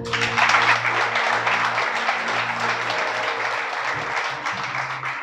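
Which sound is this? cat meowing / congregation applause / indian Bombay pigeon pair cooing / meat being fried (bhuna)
congregation applause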